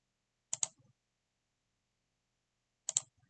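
Brief bursts of typing on a computer keyboard while a user enters a node name in Blender 3D software: a quick cluster of clicks near the start, a long silence, then another short flurry of keystrokes at the end.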